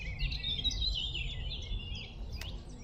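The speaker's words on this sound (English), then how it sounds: "I've just got a nice garden warbler up there" A garden warbler sings a fast, rambling warble from a tree on Staines Moor, heard moderately near over a low wind rumble.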